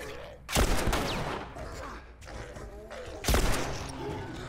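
Two loud pistol shots in the video game The Last of Us, each a sharp broadband crack roughly three seconds apart over a continuous layer of game ambience.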